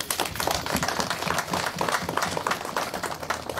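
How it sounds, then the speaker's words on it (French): Sustained applause from a gathered audience honoring security forces, steady dense clapping filling the whole stretch at an even level. "je voudrais qu'on les applaudisse aussi"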